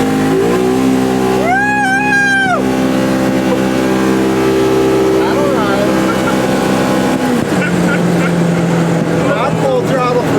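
A vehicle engine revs hard at full throttle with rising and falling tones, loud and close, while people talk over it.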